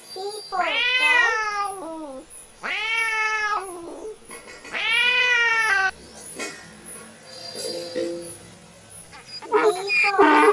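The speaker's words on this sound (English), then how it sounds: "C for cat." A cat meows in a run of long, drawn-out wailing cries, four or five separate calls with short pauses between them, loud and close, with no speech.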